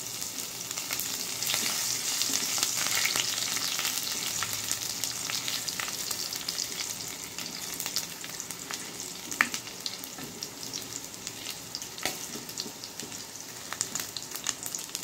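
Chopped garlic and a few cumin seeds fry in hot oil for lentil bhuna, a steady dense sizzle throughout with occasional sharper crackles and pops, close and fairly loud, no voices.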